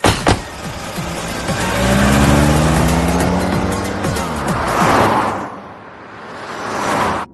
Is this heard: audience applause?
no